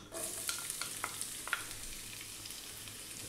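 Onion and carrot fry in oil over high heat, giving a loud, steady sizzle with light crackles and scraping stirs throughout, up close and with no voices.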